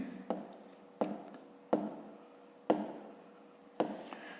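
Pen writing a math exercise on paper: five distinct scratchy strokes, each starting with a sharp tap and fading into a soft rasp, spaced about a second apart, close and quiet.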